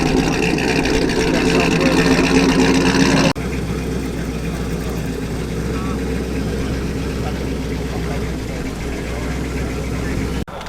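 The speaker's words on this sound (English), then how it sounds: "this Chimera certainly sounds pretty fruity" A TVR Chimera classic car's engine runs at a steady, loud rumble at an outdoor classic car meet, with a louder stretch at first before settling to a continuous drone.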